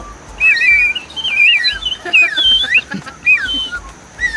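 Someone whistles short, warbling chirps imitating a bird, close up at an elephant camp, with faint background noise between the notes.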